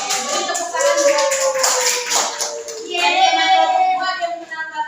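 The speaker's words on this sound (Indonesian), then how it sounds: "Beri tepuk tangan buat" Students in an elementary school classroom clap for a presenting group, a short round of hand claps with a rhythmic burst in the middle, heard beneath children's voices and chatter.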